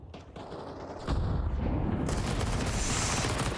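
Counter-Strike gunfire on the Anubis map during a professional match: rapid bursts of shots that swell into loud, dense, sustained firing after a quieter opening.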